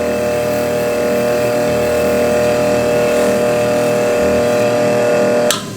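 A TandyPro burnishing machine spins steadily with a loud, even motor hum while burnishing cocobolo wood, ending with a brief scrape as the motor winds down.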